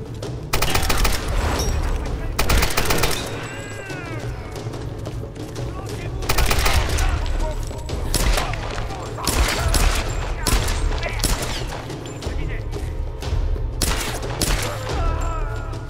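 Rifle gunfire in the Tomb Raider video game, bursts of rapid shots and booms spread through the scene, loud and punchy with gaps between volleys, with faint game voices underneath.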